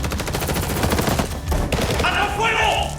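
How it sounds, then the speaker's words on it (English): Armed attackers fire wildly at a house in rapid, overlapping bursts of gunfire, loud and continuous for about three seconds, with a brief lull near the middle. "they began firing wildly in return"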